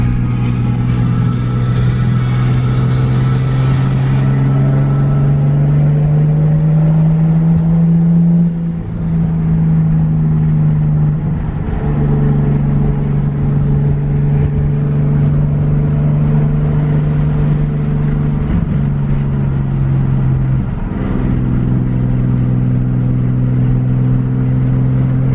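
Nissan Skyline cruising in third gear, a steady, loud engine drone from inside the car with a sustained low hum, rising slightly in pitch before briefly dropping off and resuming, with no talking.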